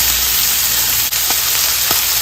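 Thick slices of pork belly frying in hot oil for a Thai chili-salt dish, a loud, steady sizzle and crackle close up, with a couple of brief sharper pops and a clack as pieces are turned.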